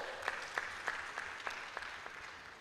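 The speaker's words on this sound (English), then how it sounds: "Round of applause for Paul." A conference audience claps for a speaker, sounding sparse and fairly faint, with a handful of distinct claps at an uneven rhythm that thin out toward the end.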